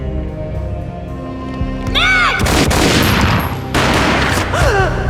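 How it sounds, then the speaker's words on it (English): Gunfire erupts in the Max Payne video game, a sudden loud burst of shots with a booming crack, then a stretch of continuous blasting over a tense musical score with sliding tones. "A gunshot boomed and she fell down in slow motion."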